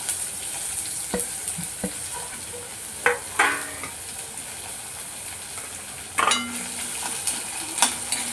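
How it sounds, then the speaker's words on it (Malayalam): Onions for a potato roast sauté in a pan with a continuous soft sizzle, broken by several scraping clatters as a spoon stirs them against the metal. "സവാള ഇതിലേക്കിട്ട് അതും കൂടി വഴറ്റുക."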